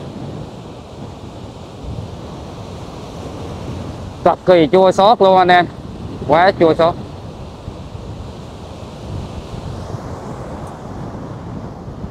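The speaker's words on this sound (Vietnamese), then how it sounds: "mọi người lẫn mình lẫn tất cả các anh em chỉ đứng nhìn con tàu nó đang dần chờ con sóng nó đánh vỡ vụn thôi" Storm surf pounds a Bình Định fishing boat in a continuous, loud roar of waves and wind, with someone speaking briefly partway through.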